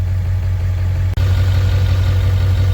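A 7.3 van engine idling with a steady, loud low rumble and one brief dropout partway through, with no voices.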